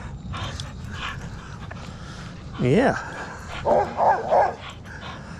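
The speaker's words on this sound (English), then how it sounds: "If I don't throw the ball right away, he starts barking." A dog gives a loud bark followed by a series of high, whining whimpers, with a person saying a short word beforehand.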